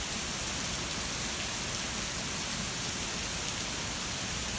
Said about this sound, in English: It's been raining on and off like this for the past week